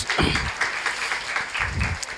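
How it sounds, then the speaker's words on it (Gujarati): An audience claps loudly for students at a school scholarship ceremony, a dense, steady burst of applause that fills the hall for a couple of seconds. "એટલે બધા વિદ્યાર્થી માટે એકવાર જોરથી તાળી."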